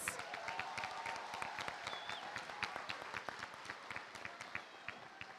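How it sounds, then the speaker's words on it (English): Audience at a school district special board meeting applauds, a moderate-sized room of steady, distinct handclaps continuing evenly for several seconds, somewhat distant and not loud. "Can we give them one more round of applause?"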